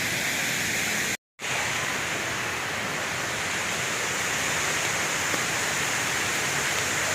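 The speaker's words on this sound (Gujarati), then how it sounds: "બપોરનો વરસાદ ચાલુ છે અત્યારે" Steady afternoon rain pours down at Bhavnath, Junagadh, as a dense, even hiss, interrupted by one brief cut in the middle, with no voices.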